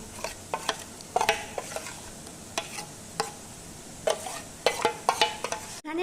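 Chicken being mixed by hand with a spice masala for a baked dish, giving soft, intermittent wet squelching and stirring bursts at close range, with a sharp clack near the end.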